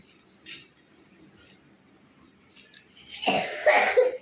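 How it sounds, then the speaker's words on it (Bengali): A child coughs a few times close by near the end, harsh bursts after a mostly quiet stretch with one faint earlier sound. "আর এইদিকে শরীরটাও খারাপ প্রচুর কাশছে"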